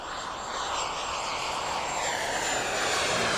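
Scale RC model jet powering away and accelerating after flaps are retracted, a loud continuous turbine roar with a whining high tone that rises and sweeps as the aircraft gains speed, with no voices.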